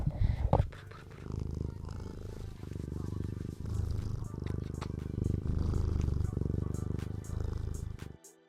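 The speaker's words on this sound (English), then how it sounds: "purring" A cat purrs close by in a low, rumbling, continuous rhythm for several seconds, with a few soft bumps at the start.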